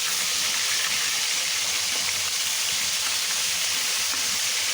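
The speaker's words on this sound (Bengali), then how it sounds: "তেল গরম হয়ে গিয়েছে, এখন মাছের মাথাগুলো ভেজে নেব" Hilsa fish heads fry in hot oil, a steady, dense hiss that holds at an even level throughout with no voices.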